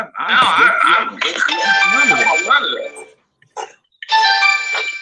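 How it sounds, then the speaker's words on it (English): A mobile phone ringtone chimes on a talk show set in bright, tonal bursts, mixed with people talking and continuing after a short pause. "No, that was my phone."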